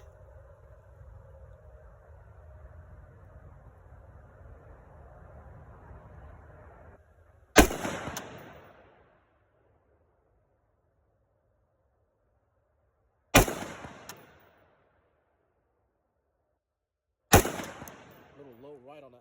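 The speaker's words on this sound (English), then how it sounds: "We're gonna do 3 rounds of 50 this time." Three sharp rifle shots fired on a range while zeroing a Primary Arms Micro Prism sight, spaced several seconds apart, each a loud crack with a short decaying tail, following a stretch of low background rumble.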